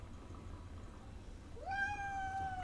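A cat gives a single clear meow near the end of an otherwise quiet stretch, close but fairly soft.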